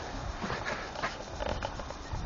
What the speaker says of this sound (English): it started to sprinkle already.